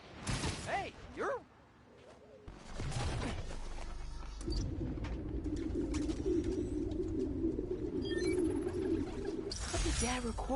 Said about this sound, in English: The place was swarming with pigeons.